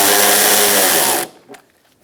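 A power tool runs loud and steady, tightening a fender liner bolt on a 2012-2018 Ford Focus, then cuts off abruptly, leaving a brief faint clatter and near silence.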